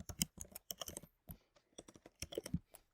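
Rapid keystrokes clatter on a computer keyboard in dense, quick bursts with a short pause near the middle, crisp and close but recorded quietly.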